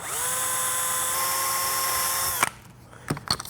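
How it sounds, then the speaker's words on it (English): A power drill whines steadily for a couple of seconds drilling holes in EVA foam, then stops, followed by a few light clicks and knocks. "drill them all out"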